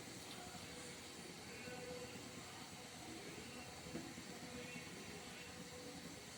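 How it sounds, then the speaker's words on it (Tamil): Water boils with a faint, constant hiss and low bubbling rumble that holds steady throughout without pause. "தண்ணி கொதிக்குது."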